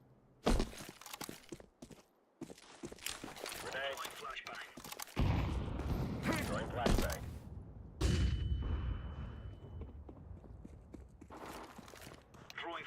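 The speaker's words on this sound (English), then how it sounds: "Grenade. Flashbang." A flashbang grenade goes off in Counter-Strike 2 with a loud, sharp burst and a ringing tone after it, among other gunfire and game sounds.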